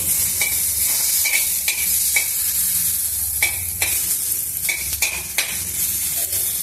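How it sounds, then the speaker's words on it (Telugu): Onions and tomatoes fry in a pan for a chilli tomato chutney, giving a steady close sizzle broken by repeated scraping stirs of a spoon against the pan, with no talking. "ఈ ఉల్లిపాయలు మాత్రం కొంచెం వేయించుకున్నాము"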